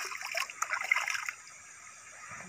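River water flowing at night, a close trickling and splashing stream that is brighter at first and then settles into a soft steady murmur.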